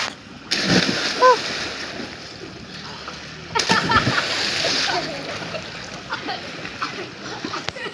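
Two loud splashes a few seconds apart as people jump into water, with lapping and faint voices in between.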